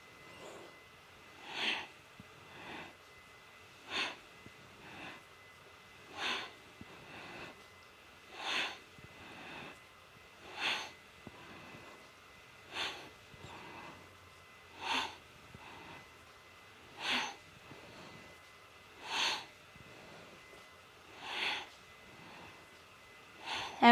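Slow, regular breaths in and out during seated yoga twists, about a dozen soft nasal breaths spaced roughly two seconds apart, close and quiet over a faint steady hum.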